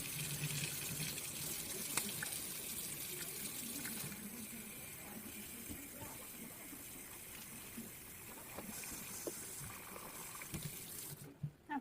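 Lukewarm water running from a tap into an enema bag, a steady, fairly quiet gushing stream that continues unbroken before cutting off near the end, with a few small knocks.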